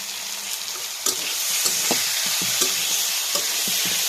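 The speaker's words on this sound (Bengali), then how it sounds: "এবারে আমি দিয়ে দেবো রসুন বাটা।" Garlic paste hits hot oil on a clay stove and sizzles steadily, with a sharp crackle at the start and light stirring scrapes that tick through the hiss.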